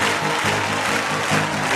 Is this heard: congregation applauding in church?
yes